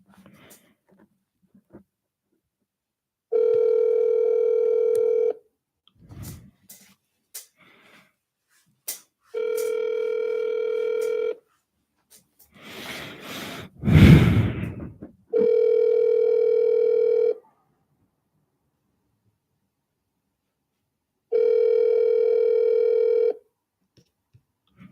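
Outgoing office telephone call: four long electronic ringback tones spaced evenly apart, with quiet handling noise and a short burst of rustling in between.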